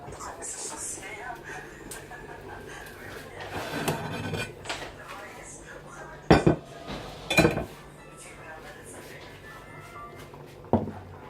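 A saucepan is lifted, metal clinking and clattering in sharp, brief knocks, a few loud clanks amid quieter kitchen rustling, close by.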